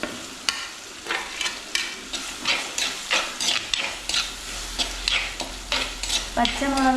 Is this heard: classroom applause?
no